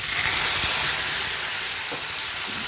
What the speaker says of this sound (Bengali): টমেটোগুলো দিয়ে দিলাম